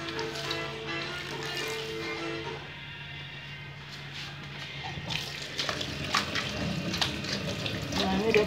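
Tap water runs steadily into a sink while kenikir leaves are washed under the flow, a continuous close splashing rush with occasional sloshes and handling noises.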